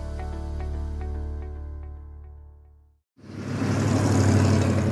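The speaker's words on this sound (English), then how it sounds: "That's the sound of rush hour." Rush hour road traffic: a continuous vehicle rumble that fades into a brief silence, then returns as a louder, broadband roar of passing cars.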